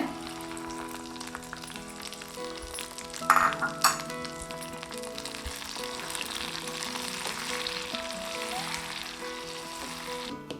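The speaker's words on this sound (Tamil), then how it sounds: "இப்போ தேவையான அளவுக்கு முந்திரி திராட்சை வறுத்துக்கலாங்க முந்திரி லேசாக வறுபடட்டுங்க" Cashews and raisins crackle and sizzle in hot ghee for sweet Pongal in a traditional brass pot, a steady close frying hiss with a few sharper spatters and stirring scrapes partway through, no voices.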